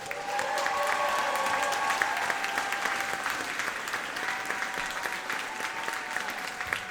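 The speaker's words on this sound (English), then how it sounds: "and Elan, one more round of applause." An audience at a school band concert claps steadily in a broad, even round of applause that holds at a moderate level for several seconds, heard from some distance.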